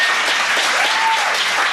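A studio audience at an unaired 1980 rock-and-roll game show applauds steadily, with a brief, continuous wash of clapping and a faint voice underneath.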